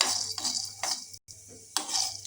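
Lentils dry roasting in a pan over a low flame give soft, intermittent scraping and stirring rattles, several short bursts of spoon against pan with brief pauses between them, close and fairly quiet.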